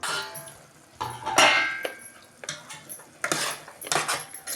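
A metal lid goes onto a cooking pot of egg curry with a few sharp clanks and scrapes of metal on metal, close and irregular, separated by short quiet gaps.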